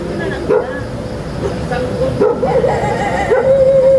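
Several dogs bark and yip in short bursts, some near and some farther off, over a busy outdoor background with people talking at Socorro's Nature Place.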